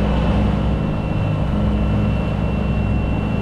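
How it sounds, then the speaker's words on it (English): Steady full-throttle drone of a 54-horsepower Yanmar diesel engine aboard a Beneteau Oceanis 45 sailboat during a sea trial, a loud continuous low rumble with a faint whine above it and no voices. "Okay, let's force the engine to maximum for 30 seconds."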